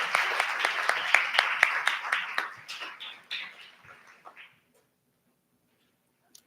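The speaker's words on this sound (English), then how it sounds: "please give a round of applause for Grace" A modest audience claps for a pianist at a celebration-of-life gathering, bright distinct hand claps that start lively and thin out over about four seconds before fading to silence.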